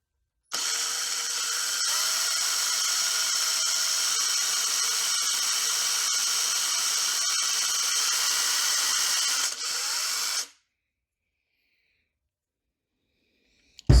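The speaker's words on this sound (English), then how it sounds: "I'm going to drill this one kind of back." Electric drill boring into a wooden lipless crankbait lure, a steady high-pitched whine running close and loud for about ten seconds before cutting off into silence.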